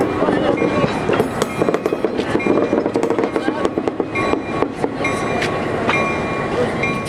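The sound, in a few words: SW9 101 locomotive pulling a train of empty cars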